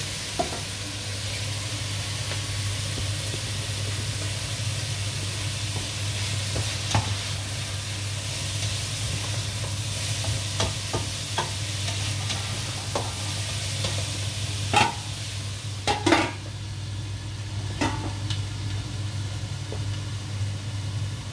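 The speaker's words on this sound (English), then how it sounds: "I'm gonna brown the sausages." Sausages browning in a pan for a beef stew give off a steady, moderate sizzle over a low constant hum, with a few sharper crackles and spatters near the end.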